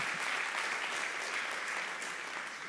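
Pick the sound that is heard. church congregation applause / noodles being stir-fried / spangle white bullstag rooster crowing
church congregation applause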